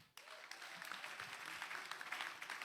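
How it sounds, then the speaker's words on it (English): An audience in a hall applauds at a seminar-style event, with many hands clapping steadily, moderately distant and fairly faint, starting abruptly and continuing without pause. "Can we clap for them?"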